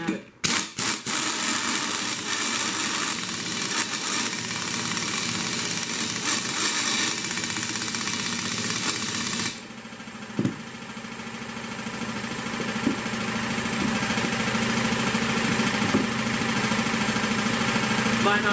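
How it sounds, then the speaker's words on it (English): An air compressor running nearby in a garage during a 9-inch axle build on a Bronco, a steady loud droning hum that drops slightly partway through, with a few clanks and faint talk beneath it. "Might not be able to hear me here with the air compressor going"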